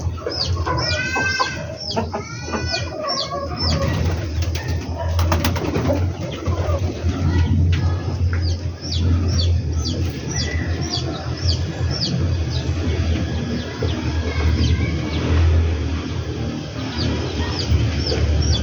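Many newly hatched, incubator-hatched chicks peep in rapid, high-pitched chirps, overlapping continuously and close by, with some clucking mixed in.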